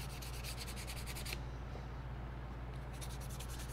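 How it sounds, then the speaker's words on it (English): Light sanding-like scuffing of a plastic scale model part, a steady close rubbing texture that pauses briefly midway before resuming, alone without talk. "just scuffing this up just a little bit"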